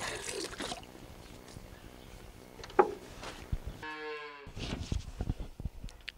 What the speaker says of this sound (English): First we see the cows coming in from the field to the yard